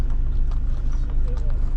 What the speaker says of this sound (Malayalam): ഇതാ ഇവിടെ വേറെ രണ്ട് വെള്ള കുതിരകൾ വരുന്നുണ്ട്